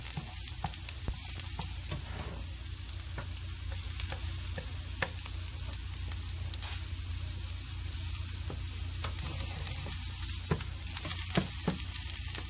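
Cauliflower rice sizzling steadily in a pan on a stovetop burner, a loud even frying hiss with frequent sharp crackles and spits close by, no one speaking.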